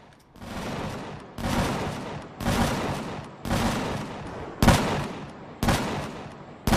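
Gunfire from the space survival video game Empyrion - Galactic Survival comes as six or seven loud bursts, each lasting about a second, in a steady repeating rhythm with no talk over them.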